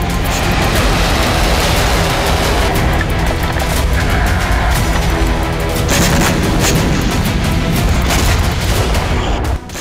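Sustained, dense barrage of booming blasts and rapid gunfire crackle, loud and continuous throughout with no pauses, from Iranian air defense fire in the sky.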